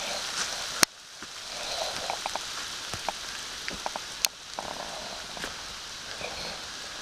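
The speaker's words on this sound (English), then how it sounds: "It's hailing on us now." Hail patters steadily on the ground and surroundings outdoors during gold prospecting in the woods, a dense scatter of small ticks and taps with a couple of sharp louder cracks, no talking.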